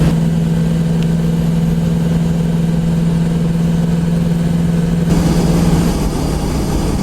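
A truck engine idles steadily before pulling a fifth wheel trailer, a constant low drone with a steady hum, close and continuous, shifting slightly in tone near the end.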